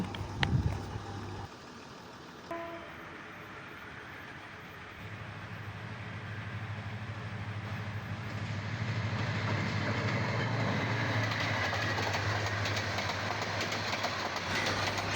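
A long train rolls past a level crossing near Dhaka, building from a quiet, low rumble into a loud, continuous roar of wagons that carries on to the end, preceded by a brief horn-like tone.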